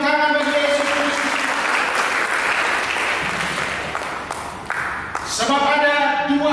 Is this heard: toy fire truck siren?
no